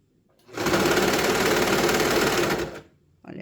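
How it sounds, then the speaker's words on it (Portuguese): A sewing machine stitching a knit dog sweater runs in one continuous loud burst of about two seconds, steady and close, then stops abruptly before a brief restart. "Aí, você vai dando uma esticadinha e costurando."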